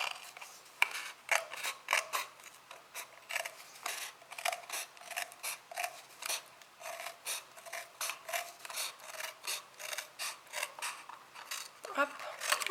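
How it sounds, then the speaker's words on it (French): Scissors cut through wool for a basket handle with a long, steady series of close, crisp snips and small mechanical clicks, fairly quiet, with no talking. "je vais couper jusqu'au bout là. Pour faire l'anse du panier."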